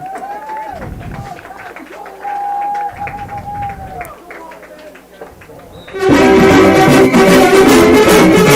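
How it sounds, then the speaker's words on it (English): A stadium crowd at a high school football game breaks into loud, sustained applause and cheering for a dancing line judge. It follows a stretch of announcer talk over a quieter background. "Give him a round of applause out there, folks."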